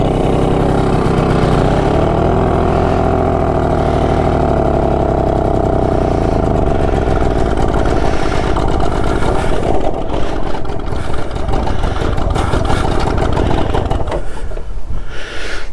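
A restored BSA Bantam motorcycle's small engine runs close by, a buzzing mid-pitched drone that rises and falls a little and turns rougher and more uneven toward the end, with no voices.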